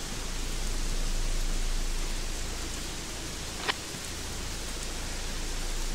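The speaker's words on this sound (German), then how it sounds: "Warum hört man den Regen hier unten in dieser Höhle eigentlich so sehr?" Rain sounding inside a cave in the video game Gothic 3, a steady dense hiss of falling drops with a low rumble beneath and a single faint tick midway.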